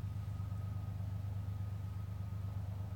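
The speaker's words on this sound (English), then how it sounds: "That must be the train." A passing train rumbles as a low, steady drone, fairly quiet and continuous, with no talk heard.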